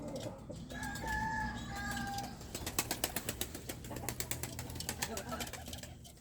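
Pigeons coo softly in low, rolling murmurs, joined by clucks, wing flaps and rhythmic scratching, with occasional higher bird calls nearby.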